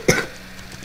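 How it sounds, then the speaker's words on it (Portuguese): A single sharp cough near the start, close and fairly loud, followed by quiet room tone during a CS:GO gaming session. "Eu tô tossindo, galera."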